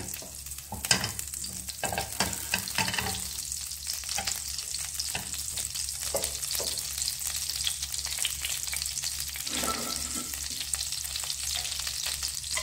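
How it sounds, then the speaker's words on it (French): Butter melting in a hot frying pan, a continuous close crackling sizzle with intermittent scraping and stirring noises throughout, no talk. "J'attends que le beurre soit fondu."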